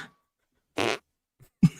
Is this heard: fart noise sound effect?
yes